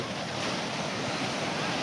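Sea waves break on the beach at Puri in a steady, loud roar of surf with some wind noise, continuous and close, with no talking.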